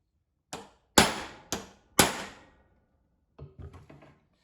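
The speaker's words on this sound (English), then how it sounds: "Then I can hit it like I mean it." Four sharp, ringing hammer strikes on a metal prick punch, evenly spaced, then a few lighter taps.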